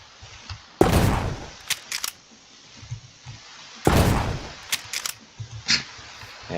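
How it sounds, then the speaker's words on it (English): Winchester Model 1887 shotgun fired in the Minecraft Create mod game: two loud, heavy blasts about three seconds apart, each trailed by quick mechanical clacks of the lever action. "And next is the Winchester Model 1887, another shotgun."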